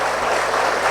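A brief, continuous patter of audience applause, even and moderately loud throughout.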